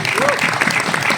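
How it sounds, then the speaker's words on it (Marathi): Steady applause from an audience at a trailer launch, a brief burst of clapping heard up close with a voice faintly over it. "आणि यानंतर एकदा जोरदार टाळ्या झाल्या पाहिजेत"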